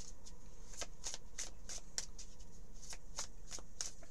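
Oracle cards being shuffled by hand, a steady run of crisp riffling flicks repeating about every third of a second, close and fairly quiet with no talking.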